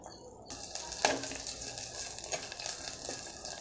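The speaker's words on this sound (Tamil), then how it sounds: "வெங்காயம் வதக்கலாங்க" One chopped onion sautéing in hot oil for mochai kottai kuzhambu, a steady, fairly quiet sizzle that starts after a brief hush, with a few light stirring scrapes.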